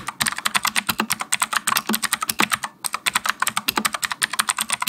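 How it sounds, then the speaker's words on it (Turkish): Rapid clicky typing on a Rampage KB-R92 Thunder mechanical keyboard with blue switches, a dense run of sharp keystrokes close up with one brief pause midway, no voices. "klavyemiz Blue Switch, yani daktilo gibi şıkır şıkır çok tatlı sesler çıkartıyor"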